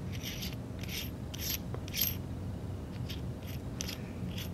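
A fitting for a motor control switch is screwed down, giving a series of quiet ratcheting, rubbing clicks in a rough rhythm, close and faint, with no speech.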